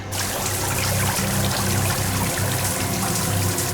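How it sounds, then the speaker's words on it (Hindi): Water gushes steadily into a cracked submarine in a TV drama scene, a loud continuous rushing torrent with a low rhythmic throb underneath. "सबमरीन में दरार आ गई सर, पानी तेजी से नीचे आ रहा है।"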